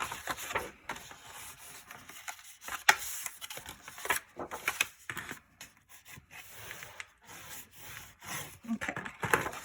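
Folded score lines on paper are burnished for a mini album cover, giving close, quiet, irregular rubbing and scraping strokes in short bursts separated by brief pauses.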